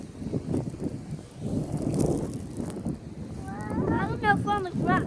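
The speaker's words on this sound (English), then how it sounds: "Ah, it's windy." Wind gusting through a snowy New York street during a 2016 blizzard, buffeting the microphone in uneven surges, with a voice speaking briefly near the end.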